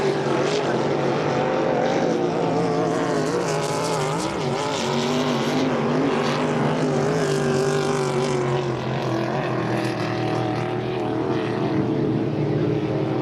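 Hydro350 hydroplane racing boats scream around the St-Félicien course, their engines a dense, continuous high-pitched drone that stays loud and steady throughout.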